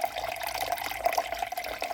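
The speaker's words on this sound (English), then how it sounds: "I'm going to pour all of the vinegar into this measuring cup" Apple cider vinegar being poured into a measuring cup in a home kitchen, a soft continuous trickling stream with a faint ringing tone, close and fairly quiet.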